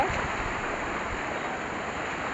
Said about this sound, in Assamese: এইখিনি জেগাত ধাৰটো আছে না, এনেকুৱাকৈ ধাৰ বৈ আছে পানীৰ